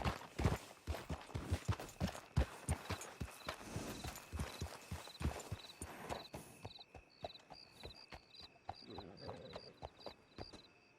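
Horse hooves clip-clop at a steady walking rhythm in the Red Dead Redemption 2 game world, close and distinct, with a faint tonal background and a soft rustle near the end.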